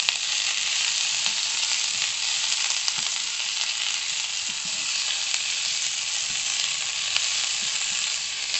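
Chopped pumpkin leaves fry in a little oil, giving a continuous, even sizzle that stays at a constant level throughout, close and fairly loud, with a few faint scrapes of stirring underneath and no talk.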